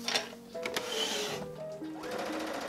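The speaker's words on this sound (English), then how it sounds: "So I'm just going to sew down to this point. So I'm going to sew this side first." A sewing machine stitches a seam on a holiday dress, its motor running in steady buzzing bursts that change pitch as the stitching speeds up and slows, close and alone with no talk.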